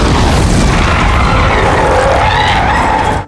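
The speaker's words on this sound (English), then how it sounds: "Draca fires off their final grenade to save Levi" A grenade explosion in the sci-fi film The Gorge, a loud, sustained roaring blast with heavy low rumble that fills the whole moment and then stops abruptly.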